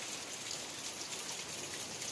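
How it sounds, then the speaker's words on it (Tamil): Light drizzling rain patters steadily on surfaces as a soft, continuous hiss of fine drops, with no voices present. "இன்றைக்கி தாங்க மழை தூத்தல் போட்டுக்கிட்டு இருக்குது"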